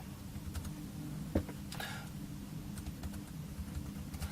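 Keys clicking on a Toshiba NB100 netbook keyboard, a quiet, close run of light taps at an uneven pace with no voices.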